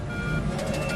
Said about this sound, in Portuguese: há um sinal dramático de alerta no cockpit